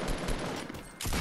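Gunshots in Fortnite crackle in a quick burst of fire, fairly quiet and continuous, with a short break before the shooting picks up again.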